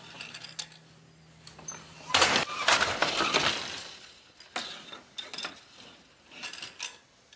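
A floor loom with treadles and eight harnesses is worked, producing clustered wooden clacks and knocking mechanical rattles in uneven bursts, fairly close and loud.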